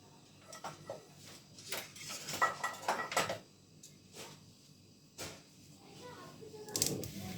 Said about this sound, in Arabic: اجيب بقى المضرب بتاعي.